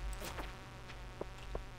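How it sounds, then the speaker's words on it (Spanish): Flies buzzing in the video game Stardew Valley, a thin droning hum over a low background with a few soft clicks, no talking. "y aquí salen las moscas cojoneras estas"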